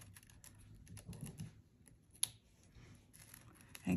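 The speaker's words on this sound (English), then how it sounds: "Trim a few more out of the center." Scissors snipping pine needles from the center of a coiled pine needle basket: faint, sparse crisp clicks and rustles in a quiet room, with one sharper snip partway through.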